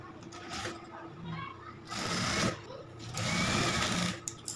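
A sewing machine stitches the lining of an Anarkali suit in several close, uneven bursts. A voice talks quietly underneath the whirring.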